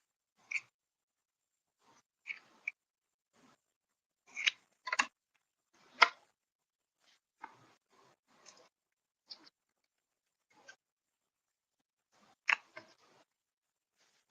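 Scissors snip during an art-making session: sparse, close, crisp cuts scattered irregularly across the stretch, some in quick pairs or small clusters, separated by quiet pauses, with no talking.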